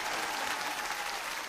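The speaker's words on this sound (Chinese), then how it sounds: "给点掌声" Steady applause from a live audience at a Shandong kuaishu comic storytelling performance, a dense continuous wash of clapping that holds evenly for the whole moment with no speech.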